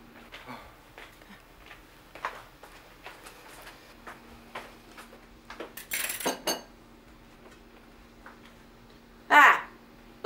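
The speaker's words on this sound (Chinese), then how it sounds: "你帮我把这些碗筷放到厨房去啊" Bowls and chopsticks clink as they are gathered up and carried in a quiet home, with scattered light taps and a brief louder clatter near the end.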